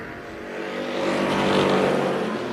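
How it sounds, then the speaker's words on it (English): Stock cars roaring at Tucson Speedway at a race start, a dense engine drone that swells louder as the pack approaches, steady and fairly close, with no talking. "Really clean race start that time, and Barry Levitt rolls the outside to the lead on lap number 1"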